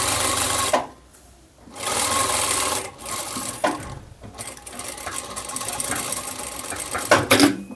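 A domestic sewing machine runs in steady loud bursts, stitching knit fabric for a high-neck sweater blouse, with brief pauses between runs.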